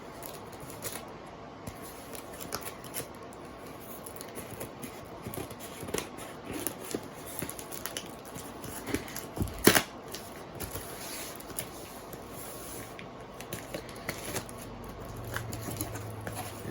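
A shipping box for a Creed Co. flapper ball is sliced open: quiet, scratchy cutting and rustling of cardboard and tape at close range, with scattered small clicks and one sharp snap partway through.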